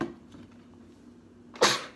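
A single sharp sneeze bursts out near the end after a quiet stretch of faint kitchen background, loud and close during a spicy noodle challenge.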